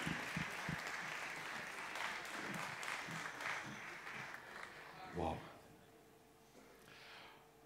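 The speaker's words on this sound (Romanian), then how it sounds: "Aplauze, vă rog, Gabriela Bădicu și Cristian Piciorea" Audience applause at a live talk event, a sustained crowd clapping that carries through several seconds before thinning out, with voices and a brief spoken comment near the end.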